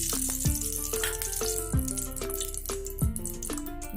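Ghee warming in a hot kadhai for kesar halwa, with steady soft sizzling and crackle plus a few sharp metallic knocks and ringing clinks from utensils, close and alone with no talk.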